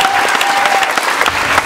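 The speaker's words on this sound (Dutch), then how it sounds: "wil ik nog even een heel groot applaus voor al die mensen die aan deze productie hebben meegewerkt" An audience at a school farewell musical performance applauds parents and teachers, a brief burst of dense, loud clapping filling the hall.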